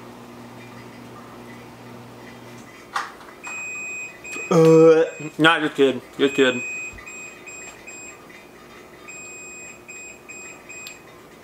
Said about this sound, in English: If you're wondering what that beeping is, that's my laundry being done.